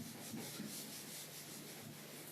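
A teacher rubs writing off a board during a biology lesson, a steady soft scrubbing swish with a few stronger strokes, close and fairly quiet, with no talking.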